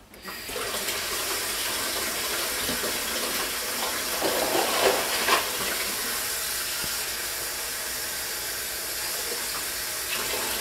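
Cold water runs steadily from a tap into a skillet, a loud continuous splashing rush that fills the whole stretch with no talking.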